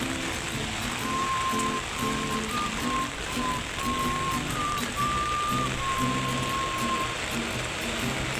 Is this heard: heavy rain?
yes